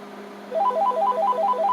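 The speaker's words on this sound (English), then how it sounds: "It says Donald Trump is calling my house phone." A house telephone ringing indoors with a rapid electronic warbling trill that starts about a third of the way through and repeats in quick pulses, close and clear over a faint background hum.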